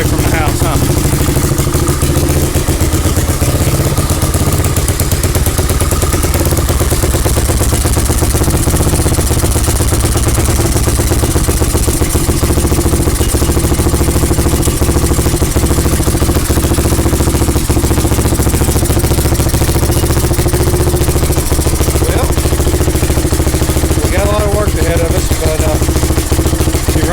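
A Honda 350X three-wheeler runs steadily and loudly nearby, its single-cylinder engine clattering and idling as it burns off the grease used to lube the piston and rings, with a voice talking over it at times.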